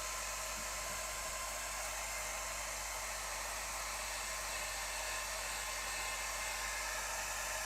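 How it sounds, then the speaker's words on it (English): A hair dryer runs steadily throughout, drying acrylic paint on paper, with a constant broadband whoosh and low motor hum and no talk. "Get the hairdryer on this."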